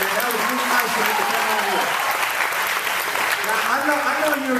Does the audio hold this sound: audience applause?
yes